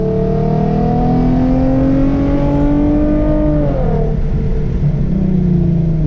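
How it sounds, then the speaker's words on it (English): A Hyundai Genesis Coupe with a loose, faulty exhaust revs with a rough, rattling exhaust rumble, pitch climbing steadily then dropping, loud and close throughout. "it just sounds like my exhaust is about to fall off"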